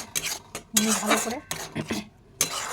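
A utensil stirs poppy seed paste with turmeric in a pan, giving several close, distinct scrapes and metallic clinks in a quick, uneven rhythm.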